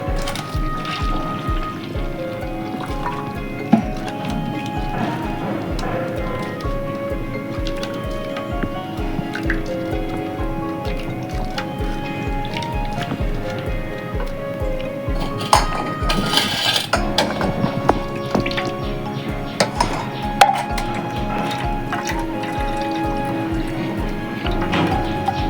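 Grated coconut squeezed by hand to press out its milk, with steady wet squishing and liquid dripping and trickling into a bowl, close up and continuous with no talking.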